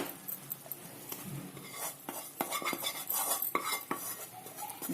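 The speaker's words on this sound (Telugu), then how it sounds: "ఇప్పుడు ఈ మసాలాని దీంట్లో కలిపేయాలి" A spoon stirs masala into cooked rice in a pan on a low flame while making vangi bath, giving repeated close scraping and clinking strokes over a faint sizzle, with no voices.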